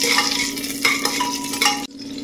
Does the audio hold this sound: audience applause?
no